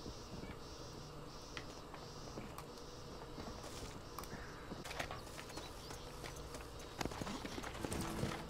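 Horse hooves clip-clopping in the Western video game Red Dead Redemption, a steady run of light hoof taps under a busy ambient bed of insect-like buzzing, growing a little louder toward the end.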